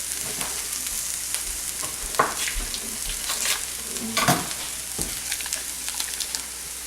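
Onions fry in two spoons of melted butter in a half-full pan, a continuous sizzle broken by scraping stirs and a couple of sharper knocks against the pan.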